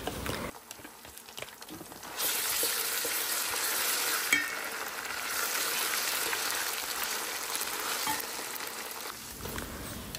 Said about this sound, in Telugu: ఇప్పుడు ఒక 2 స్పూన్స్ అల్లం వెల్లుల్లి పేస్ట్ని వేసుకొని అది కూడా పచ్చి వాసన పోయేంత వరకు ఆయిల్లో ఫ్రై చేసుకోవాలి.